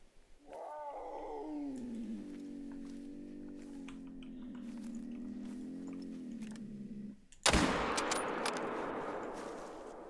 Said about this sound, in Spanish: Escucho la llamada de apareamiento.